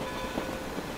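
A short train in the Russia chapter of the Assassin's Creed Chronicles video game rumbles steadily with a broad, even rolling noise and faint rail clatter, held at a constant level for the whole second with no voices.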